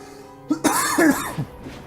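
A harsh cough erupts, followed by a rough, strained follow-up cough, close and loud, with no talk.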